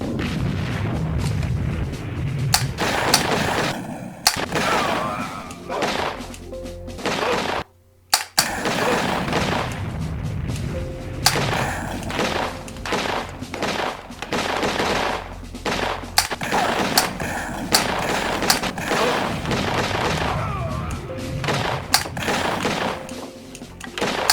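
Dense rapid gunfire from a light gun arcade-style shooting game, with bursts of automatic shots and booms running nearly continuously and loud throughout, broken by one short pause.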